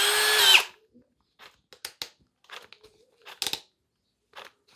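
Clutch on a Hanabi Black LB cordless drill clicks in a few short bursts of sharp ratcheting ticks, irregularly spaced and close, after a brief loud whir of the motor at the start.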